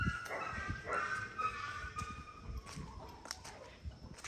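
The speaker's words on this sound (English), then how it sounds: "Sometimes the 2 puppies are fighting or something, and they make that kind of noise just to get the other puppy to stop" Two puppies on a small farm in Ghana squabble, letting out repeated high yips and whimpers over a steady noisy background, with short sharp cries scattered through the clip.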